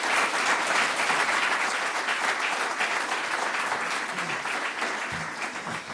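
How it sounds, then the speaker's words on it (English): Sustained audience applause fills the room at the opening of a young leaders' strategic forum, steady and dense throughout before thinning slightly near the end, with a faint voice surfacing at the close. "Please give them a big round of applause."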